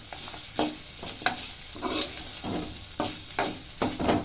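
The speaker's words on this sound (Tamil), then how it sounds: "அரை பதத்தில் வதக்கிட்டு எடுத்துருங்க." Vallarai greens sautéing in a hot pan with a spatula, a rhythmic series of scraping stirs over a continuous close sizzle, several strokes in quick succession with no talking.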